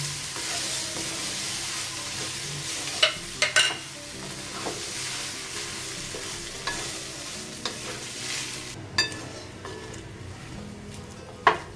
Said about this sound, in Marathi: आता बटाटा घालून घेऊया आणि परतूया छान